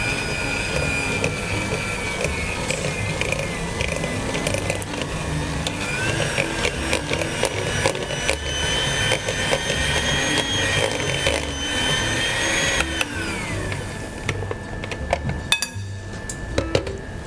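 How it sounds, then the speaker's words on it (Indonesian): Electric mixer briefly blending two ingredients for sweet bread dough, a loud continuous motor whine with clinks against the bowl, close up, stopping near the end. "kedua bahan ini di mixer sebentar aja asal tercampur rata"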